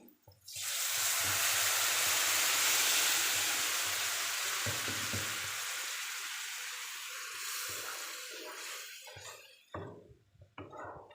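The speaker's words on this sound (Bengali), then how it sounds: "এখন আমি সিদ্ধ করা সবজি ডালটা দিয়ে দিচ্ছি" Boiled vegetable dal poured into hot frying spices, bursting into a loud, close sizzle that gradually fades over several seconds, with a few clinks and stirring scrapes near the end.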